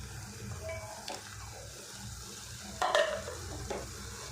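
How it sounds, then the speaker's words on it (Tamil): Bitter gourd being sautéed with ginger garlic paste in a pan, a low steady sizzle broken by a few scraping stirs of a spatula, one louder scrape standing out. "சரி பாவக்காவை வதக்கி விட்டுவோம்"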